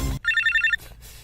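A telephone rings with a bright, repeating electronic trill, a single burst of rapid pulses standing alone and fairly loud after a short thump, then fading to quiet room tone.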